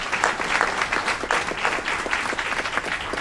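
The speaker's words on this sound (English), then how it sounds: "Big round of applause." Applause from the audience at an Aurora city committee meeting, honoring the city's 911 operators: dense, steady clapping from many hands filling the room at a fairly close, even level throughout.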